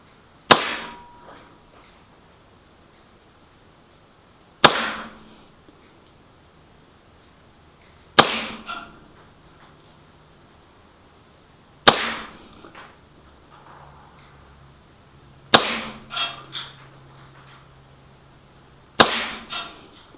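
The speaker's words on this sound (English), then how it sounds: "I'm just basically going to aim just under the bullseye and see if we can pop 10 rounds as close together as possible" A KJWorks KP-08 CO2 airsoft pistol fires six sharp, loud shots at a target, spaced roughly every three to four seconds, each crisp crack followed by a short fading rattle, with quiet gaps between.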